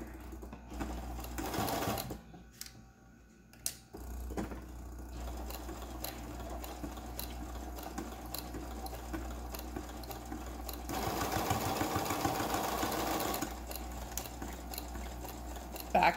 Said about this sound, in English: we're going to go ahead and sew this. And this is where I like to do the zigzag again